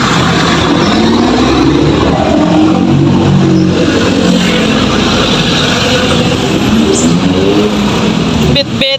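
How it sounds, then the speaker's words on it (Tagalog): Busy road traffic rumbles loudly and continuously, with engines droning and passing vehicles blending into a dense wash of noise. "Traffic."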